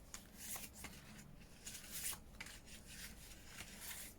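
Paper envelopes made from scrapbook paper are handled up close, soft rustles and papery slides recurring in short bursts with no one speaking.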